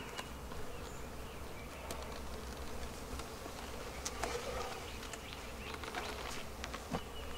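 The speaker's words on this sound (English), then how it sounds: "the bees are mostly concentrated on this side of the hive" Honey bees hum steadily across an opened hive during an inspection for queen cells in spring, a dense, continuous drone with occasional louder individual bees zipping close to the ear.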